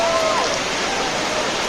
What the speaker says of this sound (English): You just look at the waterfalls, how beautiful it is just flowing.